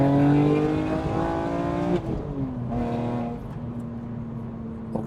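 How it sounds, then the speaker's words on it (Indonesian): A BMW M3 E46 coupe revs hard, its engine and exhaust climbing in a strong rising howl before dropping back, then a second shorter rev and a settling idle, loud and close with no talk. "Nah itu, suara knalpot 100 juta kira-kira kayak gitu"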